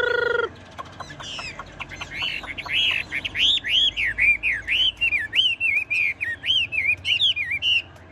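A caged Chinese hwamei songbird sings a loud, close series of rapid, repeated whistled phrases in quick bursts, following a brief harsh note at the start, with no talking.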